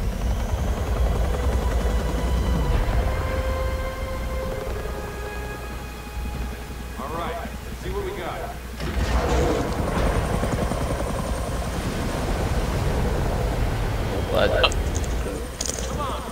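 A helicopter flying overhead, heard through an open window as a steady whirring drone, with people talking over it throughout.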